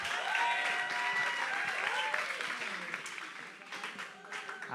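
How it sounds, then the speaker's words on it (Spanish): Audience applause at a symposium, a fairly soft, continuous spatter of clapping mixed with faint voices that slowly thins toward the end. "Un aplauso para el muchacho."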